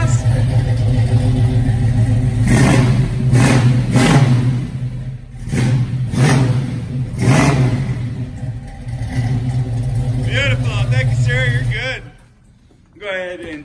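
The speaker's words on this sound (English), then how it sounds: "let you hear the exhaust" Exhaust from a running 396 V8 car engine, close and loud, blipped through several sharp revs over a steady idle before cutting to quiet near the end, with voices talking over it.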